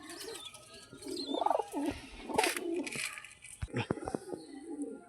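Young female pigeons coo in short, soft, throaty bursts close by, repeated across the clip amid faint background rustle and scattered clicks.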